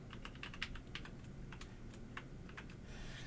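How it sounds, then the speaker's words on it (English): Code being typed on a computer keyboard: a quiet, fast, uneven run of light key clicks close by, continuing throughout with no talking. "So now from here, I can type our print hello world."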